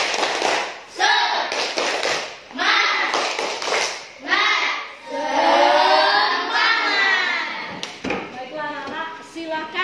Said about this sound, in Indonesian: Oke, tepuk semangat dulu.